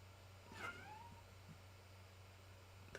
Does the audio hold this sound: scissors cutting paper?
no